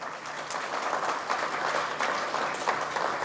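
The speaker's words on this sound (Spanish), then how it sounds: "Para ellas también un fuerte aplauso" A short burst of warm audience applause at an academic health-promotion event, dense overlapping claps at steady, moderately loud level throughout.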